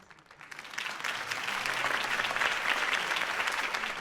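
A crowd in the Batman Telltale video game applauds after Harvey Dent's campaign speech, the clapping swelling quickly from quiet to a steady, dense roar of hands.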